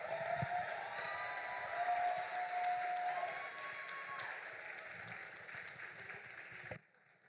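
Audience applause at a national Enactus competition and anniversary celebration in Nigeria: a faint, distant wash of clapping that holds steady for several seconds, mixed with background crowd sounds, then cuts off abruptly.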